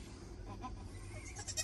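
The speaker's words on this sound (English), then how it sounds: "There's nothing much cuter than a baby goat." A baby goat on a farm bleats faintly amid low background noise, with a few brief, soft cries.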